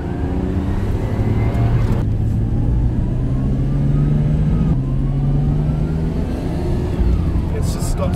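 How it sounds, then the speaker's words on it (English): Nissan Skyline GT-R R34 pulling hard in second gear at half throttle, a steady, loud engine drone with rising tone that climbs over several seconds, close inside the car, with road noise throughout. "I'm gonna accelerate from 200 RPM and give half throttle and just listen to it."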